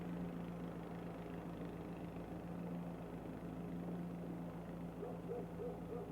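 Helicopter in the Far Cry 5 video game, a steady low rotor drone with a faint engine hum, distant and quiet, continuous across the whole stretch with no talk.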